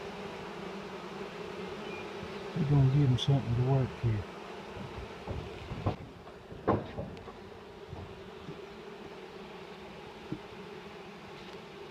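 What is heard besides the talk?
honey bees buzzing at a newly hived swarm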